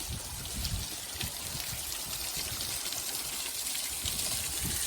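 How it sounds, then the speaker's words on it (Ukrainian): Steady broadband rush of a waterfall flowing outdoors, a continuous close and loud wash of falling water with no talk over it. "Ми нарешті дійшли до водоспаду."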